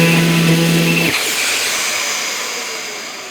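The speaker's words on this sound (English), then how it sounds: "The machine starts and the extractor starts." Festool cordless sander with an attached dust extractor: a loud steady whine and hum for about a second, then a pitch drop into a fading whirring hiss as the sander stops while the extractor keeps drawing air.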